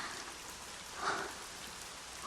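Steady rain falls as an audiobook sound effect, a dense, even hiss of drops on a surface with a slight swell in the middle. It is moderately loud and continuous, and no voice is heard.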